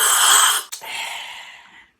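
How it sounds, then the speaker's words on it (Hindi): A loud, airy slurp of hot tea, a long hissing intake followed by a second, softer sip that fades out. "कैसे सुड़क सुड़क करके पी रहे हो तुम?"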